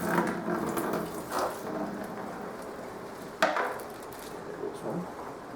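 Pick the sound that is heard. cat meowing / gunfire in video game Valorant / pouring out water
pouring out water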